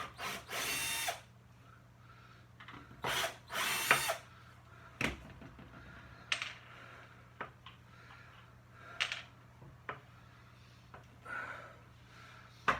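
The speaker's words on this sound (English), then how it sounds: "if I now unscrew it from the table and watch it fall off" Power drill bursts unscrewing a screw from a wooden dining table, several short whirring spurts with pauses between them, close and moderately loud over a steady low hum.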